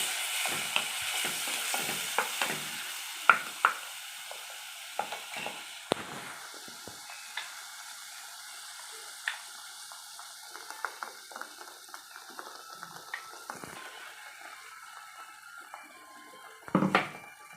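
Quiet bubbling and sputtering from red chutney simmering in a pan, with scattered pops and crackles and a louder burst near the end.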